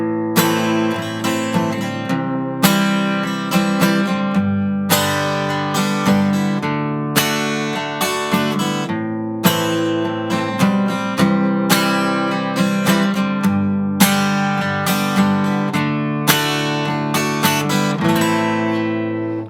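An acoustic guitar is strummed in a steady pattern with added accents and muted chops, loud and close, with full ringing chords and crisp rhythmic strokes throughout and no talking.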